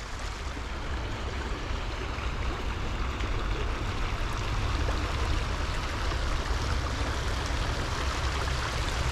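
River water flows steadily in Chihuahua, Mexico, a continuous broadband rushing wash at moderate level with no voices.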